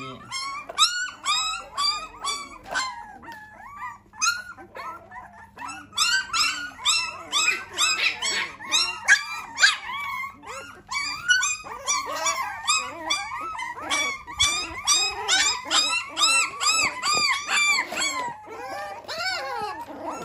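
A litter of hungry abandoned puppies at a barber shop keeps up a dense, close stream of yips, whines and short barks, with only a brief lull near the start.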